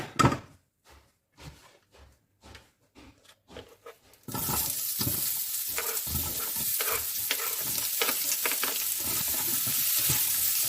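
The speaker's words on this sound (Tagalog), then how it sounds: "in the same pan, we're gonna fry the onions" Onions go into a hot pan over high heat, previously used for lamb: a few sharp knocks and scrapes first, then a sudden, loud, continuous sizzle with stirring noises on top.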